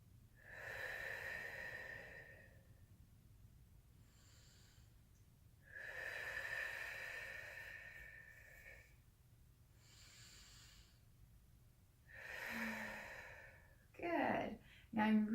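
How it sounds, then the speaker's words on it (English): Slow breathing during a relaxing yoga session comes through as several long, close, breathy exhalations and inhalations in a steady rhythm, a few seconds apart, ending with brief rustling. "I'm just going to breathe in and out"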